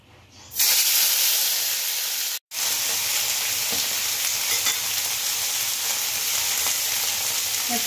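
Pointed gourd (potol) pieces hit hot oil in a wok for a Bengali potol chingri curry, setting off a loud, steady sizzle that breaks off for a split second and then carries on evenly, close up and alone.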